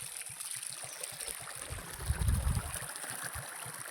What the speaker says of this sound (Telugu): Water flowing.